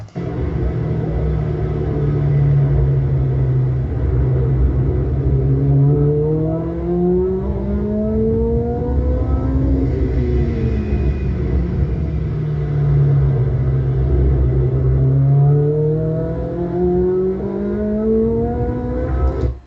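A Lotus Elise race car engine runs close and loud, rising and falling through several revs with a rumbling idle between them, heard alone without talking.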